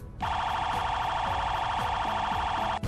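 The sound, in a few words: third police siren of a car in Truckplanet video game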